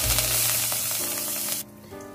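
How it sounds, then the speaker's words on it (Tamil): Mustard seeds and urad dal tempering in hot oil for Tamil drumstick thokku, a loud, continuous crackling sizzle close up that drops sharply near the end. "இதல வந்து நான் கடுகு உளுத்தம் பருப்பு தாளிச்சுக்கறேன்."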